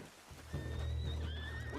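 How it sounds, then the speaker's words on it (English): A horse in the video game Red Dead Redemption 2 whinnies loudly and close by, a long wavering neigh over a low rumbling background. "What's wrong with this horse?"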